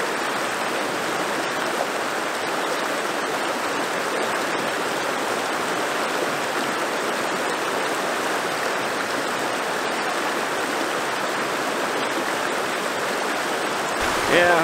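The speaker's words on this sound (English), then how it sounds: "Yeah, I have to cross the river 3 times." A river on Ringvassøya rushes loudly and continuously at close range, a broad steady roar of flowing water at a stream crossing, with a brief clatter near the very end.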